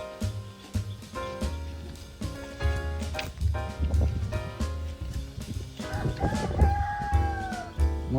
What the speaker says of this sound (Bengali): মোরগের ডাক শুনতে পাচ্ছি আমরা